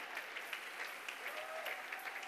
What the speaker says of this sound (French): est-ce que tu peux t'élever et donner une bonne offrande d'acclamation au ressuscité qui règne?